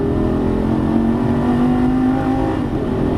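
A Lamborghini Gallardo Superleggera LP570-4 on track at full throttle, its engine note loud and steady with a sustained rising drone running through the whole stretch.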